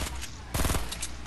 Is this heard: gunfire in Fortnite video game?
yes